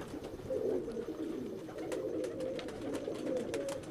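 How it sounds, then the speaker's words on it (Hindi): Pigeons coo softly and continuously in the evening, their low burbling calls overlapping in a close, steady murmur with light rustling. "ये जी दीवान साहब वाले कबूतर हैं"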